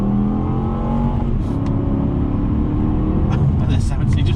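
A 2008 Volvo S80 with a V8 engine pulls hard along a dual carriageway, a loud, steady rising engine drone heard from inside the cabin, with someone talking over it.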